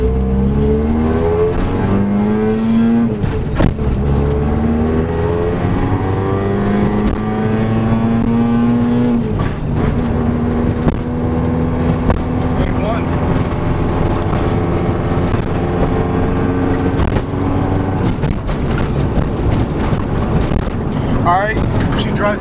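Honda Integra DA9 on a test drive after replacement of worn CV axles, steady engine drone rising and falling through the gears with wind and road noise, heard from inside the cabin throughout while someone talks.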